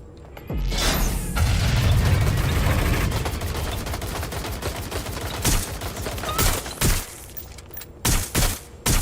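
Gunfire and an exploding grenade in the video game Watch Dogs Legion, a loud sustained blast and rumble followed by bursts of sharp shots and thuds, close and intense.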